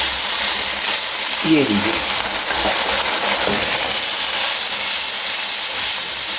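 Red chili, turmeric, salt and fennel fry in a pan for pakora kadhi, producing a loud, steady hiss that fills the clip while a voice speaks briefly over it.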